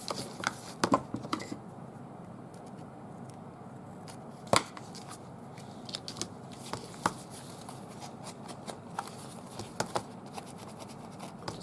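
Scissors trim the bottom edge of a paper envelope pocket craft, giving soft, sparse snips and light paper scratching, faint and close, with long quiet gaps between cuts.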